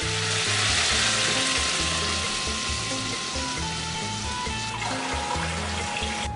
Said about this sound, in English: Then let it fry for a little bit.